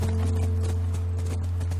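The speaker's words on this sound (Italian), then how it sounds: "Quello è il nostro cavallo." Horse hooves clip-clop in a steady walking rhythm in The Last of Us video game near a ranch, close and distinct over a constant low engine-like hum.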